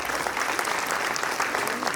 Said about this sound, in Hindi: तालियां बजा सकते हैं आप इस बात पे भी।